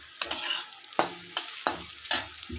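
Minced garlic and ginger frying together in a pan, crackling loudly, with a series of repeated spatula scrapes and knocks at an uneven rhythm over the sizzle.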